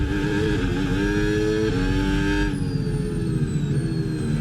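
F1 cars in the F1 26 video game resume racing behind the safety car in a Cadillac career race at Singapore. The engines drone loud and steady, and their pitch shifts midway as they run on together.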